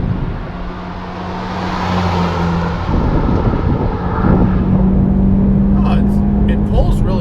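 A modified Mitsubishi Lancer Evolution X GSR accelerates, heard from inside the car as the engine note climbs, steps up after a shift and pulls harder, loud and close with a steady drone.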